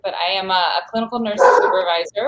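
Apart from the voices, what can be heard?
dog barking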